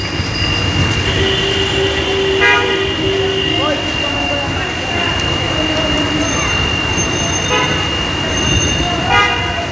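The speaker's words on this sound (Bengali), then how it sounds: "হয়তো কয়েক মিনিটের মধ্যে ট্রেন চলে আসবে।" A train runs along a flooded rail line in Dhaka during Cyclone Remal: a loud, close, steady rumble of wheels on rails, with sustained horn toots and brief metallic wheel squeals.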